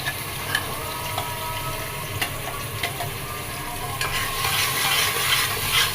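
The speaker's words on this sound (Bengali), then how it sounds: "তেলটা গরম হওয়ার পর মশলাগুলো দিয়ে দিচ্ছি।" Spices frying in hot oil with tomato in a pressure cooker, stirred steadily: a continuous close sizzle with scraping and clinking of the spoon against the pot, and no talk.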